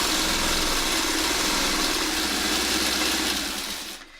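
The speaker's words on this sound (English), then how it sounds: "And I'm just going to sew all that together" Sewing machine stitching quilt seams for a Castle Wall Y-seam block, a steady close mechanical whirr running continuously for about four seconds before easing off at the end.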